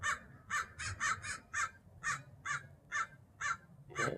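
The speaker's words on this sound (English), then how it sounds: "Oh, there's another scrub jay." A scrub jay gives a steady series of about a dozen harsh, raspy calls at a regular pace, close and fairly loud over faint outdoor background.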